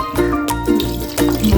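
Glassfuls of water poured into a cooking pot in a home kitchen while preparing chicken; a close, steady splashing pour runs throughout with small surges, and no one speaks.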